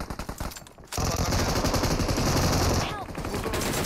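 Loud sustained automatic rifle fire in PUBG Mobile, a rapid burst running nearly three seconds after a few single shots, with players talking over the shooting.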